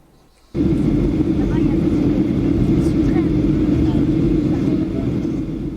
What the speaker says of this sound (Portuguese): Isso aí é o avião passando no meio das nuvens